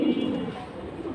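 Large-sized racing pigeons coo in low, soft throaty murmurs close by, a steady rolling hum filling the short moment with no talk over it.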